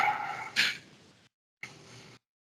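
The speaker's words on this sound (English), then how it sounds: "Dogs." Dogs barking in two separate bursts, the first with a sharp loud onset that tails off, followed by a short pause and a second quieter bark burst, with no talk over them.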